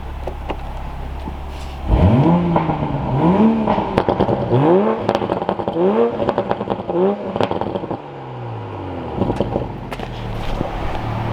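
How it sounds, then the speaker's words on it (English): A Toyota Supra with a modified, very loud exhaust revs repeatedly in a parking garage, sharp throttle blips rising and falling with crackles between them, close and alone, then settling to a steady idle. "I feel as if it's more of a moral obligation to rev the Supra"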